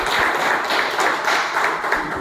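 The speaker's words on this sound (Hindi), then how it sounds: "मैं चाहूँगी एक बार जोरदार तालियां।" Audience applause at a road traffic safety awareness lecture, a dense, steady wash of clapping from a crowd filling the hall, moderately loud and continuous.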